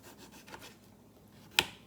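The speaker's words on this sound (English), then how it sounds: "And then I just trim off a little bit of the lemon" A knife trims a bit off a lemon half: soft, faint rubbing and scraping, then one crisp, sharp cut near the end.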